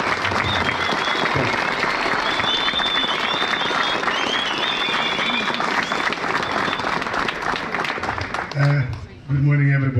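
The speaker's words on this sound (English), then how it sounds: "So let's give a round of applause, the loudest one, to Coach Pitso." Loud, dense applause from a crowd at a school re-classification launch event, continuous clapping filling nearly the whole stretch with some cheering mixed in, before a voice begins speaking near the end.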